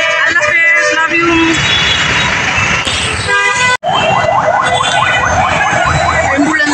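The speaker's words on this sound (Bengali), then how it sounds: "অ্যাম্বুলেন্স যাচ্ছে" An ambulance passes close by on a busy road, its loud wailing siren sweeping up and down over traffic rumble and a brief horn toot, filling the whole stretch.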